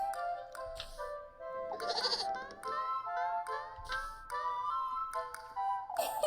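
A goat in the game Little Goody Two Shoes bleats again and again in wavering, nasal cries, loud and close, with short gaps between the calls and nothing else around them.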